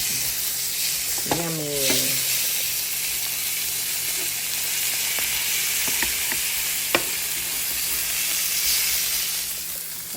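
A well-done steak sizzles steadily in a pan, a constant close frying hiss running throughout, with a brief voiced word and a few clinks over it.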